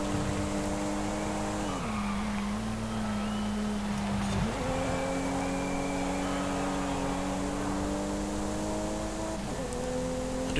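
A 2020 Toyota GR Supra with an automatic gearbox in Forza Horizon 5 revs hard, its engine note climbing then dropping sharply at quick upshifts, loud and steady with light tire noise.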